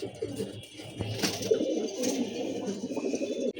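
A racing pigeon at a pigeon race coos in low, throaty, rolling calls close by, repeating continuously against a quiet background.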